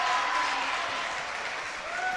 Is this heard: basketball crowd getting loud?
yes